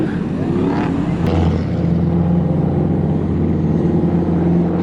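A drift car at Sandia Speedway during an end-of-season drift event revs hard and holds a loud, droning engine note on track, heard from nearby with steady intensity and faint crowd voices beneath.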